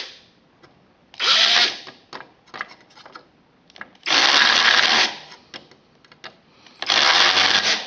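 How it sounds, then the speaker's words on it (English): A small power tool grinds down a snapped plastic tab on a GI Joe toy steering part in three loud, harsh bursts, each about a second long, with quiet handling noises between them. "I'm just going to grind it down a bit."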